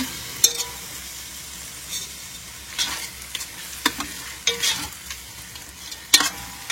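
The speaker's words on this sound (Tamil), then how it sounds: "இதையும் போட்டு நல்லா வதக்கிடலாம்" Ingredients for chicken biryani sizzle steadily in a pan as a spatula scrapes and stirs them in repeated strokes, close and fairly loud, with no talking.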